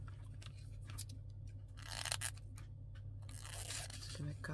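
Packaging material being cut off for a large handmade junk-journal specimen card, a few crisp tearing and crunching snips and scrapes at close range over a low steady room hum, with no talking.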